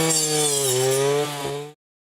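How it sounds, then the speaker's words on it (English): A farm brush cutter fitted with a special circular blade, its engine running loud and steady with a strong whining drone that shifts slightly in pitch, then abruptly cut off. "Company-made special circular blade is in use for this work. Hence, brush cutter is helpful for our farmers in many ways."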